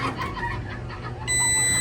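A digital multimeter's continuity buzzer gives a steady electronic beep that starts abruptly partway through and holds to the end, over a low background hum, while testing a power amplifier.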